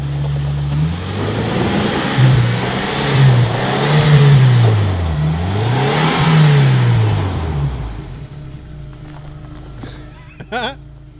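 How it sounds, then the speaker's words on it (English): A Land Cruiser 80 Series engine revs repeatedly off-road as its wheels spin for traction, the pitch rising and falling in several surging waves before the engine settles, followed by brief squeaks and clicks. "he ends up just spinning his wheels"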